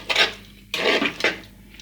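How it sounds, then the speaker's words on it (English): A spoon scrapes and clinks around a bowl of barbecue sauce in a few short bursts, close and fairly loud, with brief pauses between strokes. "So give it a stir and see how it's coming along."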